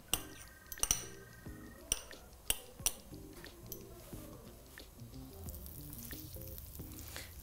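Butter sizzles softly in a well-heated frying pan, a faint steady crackle beneath several sharp clinks of a utensil against the pan early on, with quiet kitchen sounds throughout.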